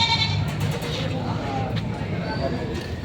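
Goats bleat as they are loaded at a livestock market in Padre Garcia, Batangas, with repeated nearby calls rising over a busy background of crowd chatter and vehicle noise.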